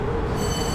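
A metro train rumbles steadily through Communication University station in Beijing, a loud, continuous low roar with a faint high whine above it.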